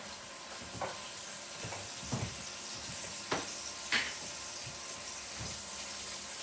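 Brussels sprouts with salt, pepper and sumac sizzle steadily in olive oil in a pan, a constant bright hiss with a few soft clinks and stirring knocks scattered through, no talking.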